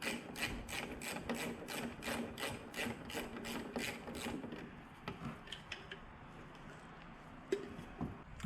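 10mm socket wrench ratcheting to loosen a vehicle horn bracket bolt, a close series of quick, evenly spaced clicks that stop partway, followed by faint handling noises.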